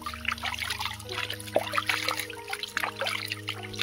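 Water trickles and pours steadily over a person's head beside a jungle river on a hot day, a close, continuous splashing dribble with a few louder splats and a low steady hum underneath.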